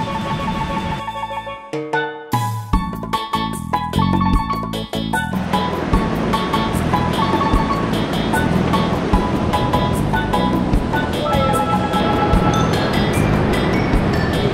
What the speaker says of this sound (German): Schau mal, die Wellen.